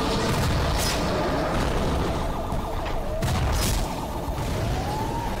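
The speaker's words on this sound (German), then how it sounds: "Ach, die schießt hier aus diesen Kanonen." Cannons fire in a Skibidi Toilet battle animation, heard as a dense, loud barrage of booming blasts mixed with rising siren-like wails throughout.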